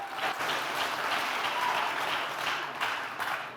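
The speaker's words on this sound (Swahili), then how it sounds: "Pigeni masauti makofi man" Studio audience at a Kenyan comedy talk show applauding and cheering, a sustained wash of clapping at moderate level with no break.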